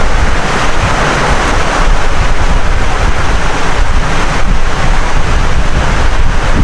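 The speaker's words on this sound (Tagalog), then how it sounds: "Oh, lakas ng hangin" Strong, steady wind roars and buffets the microphone with a loud, constant rushing noise, and no other sounds stand out.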